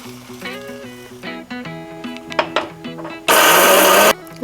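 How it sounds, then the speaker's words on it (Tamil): A mixer grinder grinds dried red chillies, coriander and coconut in one short, loud whirring burst of under a second. Light melodic music plays before the burst. "ஏன்னா காய்ந்த மிளகாயை நம்ம அரைத்து உபயோகப்படுத்த போகிறோம். காய்ந்த மிளகாய், தனியா மற்றும் தேங்காய்."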